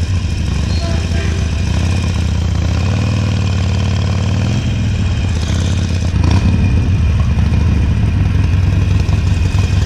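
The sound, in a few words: motorcycle engine idling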